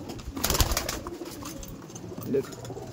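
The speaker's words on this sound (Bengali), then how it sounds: "সব অ্যাক্টিভ পায়রা।" Madrasi pigeons cooing in a loft, soft low coos near and far with a brief flutter, fairly quiet with faint background noise.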